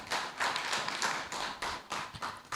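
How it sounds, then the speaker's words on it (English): A small group gives a round of applause, a few hands clapping in uneven bursts with distinct taps and soft thuds, up close and without voices. "Can we give her a round of applause, please?"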